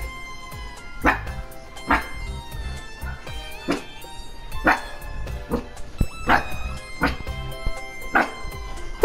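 A puppy barks and yips in short repeated bursts, several sharp barks spaced a second or two apart, close and fairly loud over a quiet indoor background.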